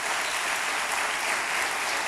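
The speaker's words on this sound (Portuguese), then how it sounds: "Aplauda o Senhor Jesus por esse salmo" A church congregation applauds after a psalm, with dense, even clapping that stays loud and continuous throughout and no one talking over it.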